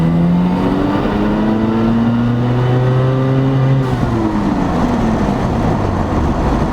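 A Mazda RX-7 pulls hard in second gear from 30 mph at full throttle, its engine note climbing steadily in pitch, dropping at a shift, then rising again, loud and close with no talk.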